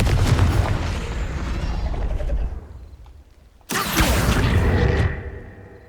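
A Confringo fire spell from Hogwarts Legacy, a booming blast that fades into near silence, followed by a second sharp burst and rumbling impact.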